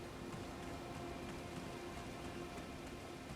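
Rain falls steadily in the Elden Ring video game, a soft, even hiss of drops on the ground, faint and continuous with no other sounds or talk.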